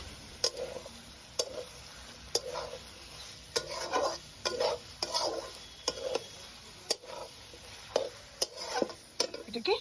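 Fish head and cabbage mixture seasoned with garam masala being stirred in a pan, with repeated spatula scrapes and clinks against the metal over a soft sizzle, in an irregular rhythm close by.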